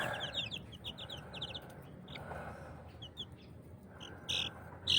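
Grey chicks being moved to another cage give rapid, high, thin peeps in quick repeated bursts over a steady background hiss, close by and moderately loud.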